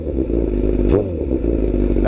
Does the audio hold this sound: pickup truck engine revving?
yes